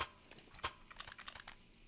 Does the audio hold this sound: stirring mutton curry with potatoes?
no